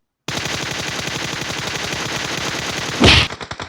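Rapid automatic gunfire in PUBG Mobile: a loud sustained burst of evenly spaced shots, then a sharp louder blast followed by a few spaced echoing reports.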